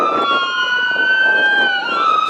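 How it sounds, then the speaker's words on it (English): A loud ambulance siren wails nearby, its pitch sweeping up and down continuously over traffic noise as the vehicle passes. "Sorry about that, ambulance going by."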